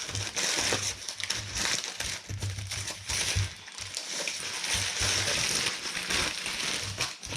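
Scissors cutting open greaseproof paper wrapped around beef suet, a continuous loud crinkling and crackling of paper close up, no talking.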